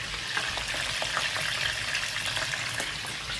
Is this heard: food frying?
yes